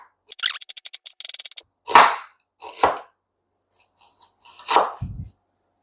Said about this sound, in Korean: 그 다음에 양파는 반 개만 채 썰어주세요